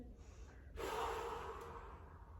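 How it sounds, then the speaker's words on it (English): A deep yoga breath is drawn in, a soft airy hiss that swells suddenly and holds steadily, close and quiet over a faint background hum. "Take another breath in."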